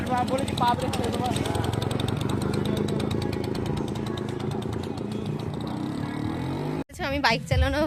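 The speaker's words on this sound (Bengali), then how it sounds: "আমি বাইক চালানো মানে ফটফটি চালানো শিখেছি, এবার সোনাই চালানো শিখছে" A motorbike engine runs close by with a steady, buzzing idle while a child learns to ride. It cuts off abruptly near the end, and a voice follows.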